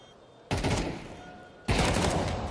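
Two loud bursts of rapid automatic gunfire from a Counter-Strike 2 match at an esports grand final, the first cutting in after a quiet stretch and the second starting partway through, both dense and close.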